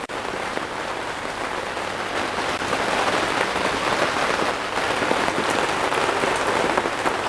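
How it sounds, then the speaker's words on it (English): Continuous rain pattering on a surface in the Netherlands, dense and even, with no voices. "as you hear really the Netherlands nice gray sky and rain"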